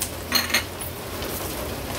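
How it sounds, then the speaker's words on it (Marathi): A spoon stirring turmeric into a hot tempering in a kitchen pan, giving two quick metallic clinks early on over a low steady sizzle. "व्यवस्थित मिक्स करून घ्यायचं आहे।"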